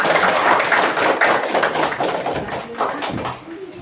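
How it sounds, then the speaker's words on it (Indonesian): A classroom of students applauds a presenting group, a dense, close patter of many hands clapping together that tapers off toward the end. "beri tepuk tangan dulu untuk kelompok 2"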